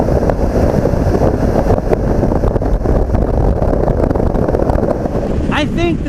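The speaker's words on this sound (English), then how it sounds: "I think I'm only hearing standard wind noise." Steady, loud wind roar rushes inside a motorcycle helmet while riding a Honda Africa Twin, a constant broadband buffeting that fills the whole stretch, with a brief voice near the end.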